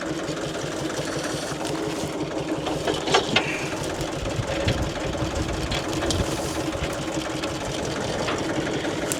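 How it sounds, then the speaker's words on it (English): A farm tractor engine idles close by with steady rhythmic chugging, set against gusty outdoor wind noise throughout, no talk. "We're going to hook the plow up to that tractor and bring it back over here"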